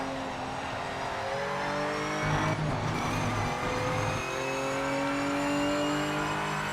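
Race car engines in the Project Motor Racing sim scream at high revs, loud and continuous, with a second car's engine briefly swelling in close behind through shifts and pitch swings.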